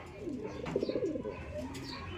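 Pigeons or doves cooing in a repeated, rolling pattern, fairly close and moderately loud over a steady background hum, with a few brighter chirps scattered through.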